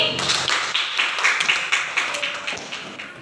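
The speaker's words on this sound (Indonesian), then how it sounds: "tepuk tangan dulu untuk kelompok sapi" A classroom of students applauding a presenting group, a steady burst of many hands clapping together, close and fairly loud, with voices mixed in.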